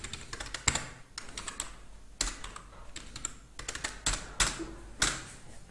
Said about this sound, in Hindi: एंटर प्रेस करेंगे